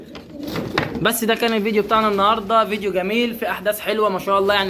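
Pigeons in a loft coo softly in the background while someone talks continuously over them.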